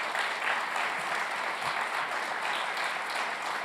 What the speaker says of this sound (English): So I would like to also give them a round of applause and thank them.